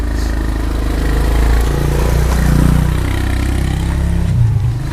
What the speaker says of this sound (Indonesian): Aduh ada motor.